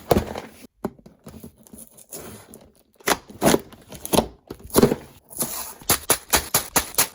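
A LEGO Ideas 21362 Mineral Collection set box being torn and opened, with bursts of cardboard tearing and crinkling packaging, then a denser run of rhythmic ripping and rustling close by, no talking.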